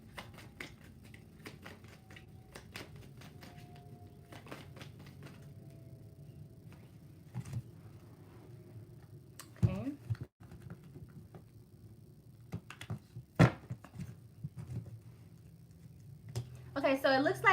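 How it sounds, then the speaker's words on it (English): Tarot cards shuffled by hand during a reading, giving scattered soft taps and riffling flutters at a moderate distance over a low steady background, with a faint voice now and then. "I'm gonna do more shuffling"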